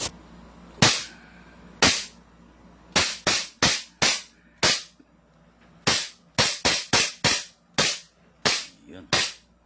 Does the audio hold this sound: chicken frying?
no